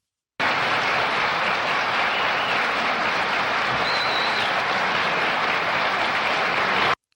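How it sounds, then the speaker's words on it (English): Dense, steady crowd applause rolls on for about six and a half seconds on a comedy podcast, with no voices over it, then cuts off abruptly. "if anything deserves a round of applause"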